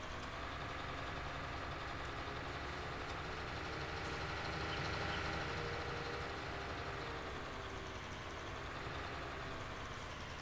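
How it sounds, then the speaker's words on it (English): A heavy diesel tractor engine in Farming Simulator 19 drones steadily, a dense low rumble with a slight swell midway, continuous and close with no talking. "that's got like a Cummins engine sound."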